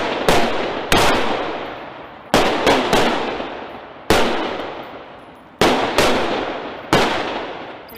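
Repeated loud gunshots ring out on an outdoor shooting range, single sharp reports and quick pairs spaced about a second apart, each trailing off in a long echoing decay, with no voices.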